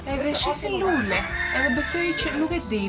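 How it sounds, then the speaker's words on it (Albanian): A rooster crows at a farmyard house in Trentino, where horses and chickens are kept during an Easter outing; the crowing sits under steady nearby conversation. "Dëgjojt ai kokoras."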